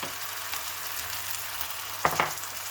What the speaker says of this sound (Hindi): अब हम सारे चिकन के पीस को इस तरह से इसमें डाल देते हैं। जो हम मैरिनेट करके रखे हैं उसे हम इसमें ऐड कर देंगे।